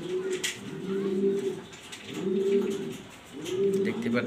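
Three clear bouts of deep cooing come from black Danish pigeons at close range, each phrase swelling and fading, with quiet pauses and light background noise between them.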